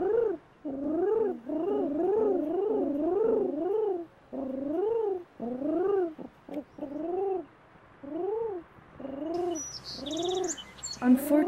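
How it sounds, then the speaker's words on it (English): Pigeons coo in a steady series of soft, rolling calls, close and repeated with short pauses, as a flock gathers at scattered food, with a brief chirp near the end. "As time passes, the food is discovered by flocks of pigeons."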